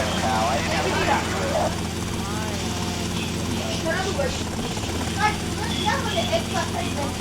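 A helicopter's rotor drone hums steadily in GTA Vice City gameplay, a constant mechanical whir beneath two people chattering and calling to each other throughout.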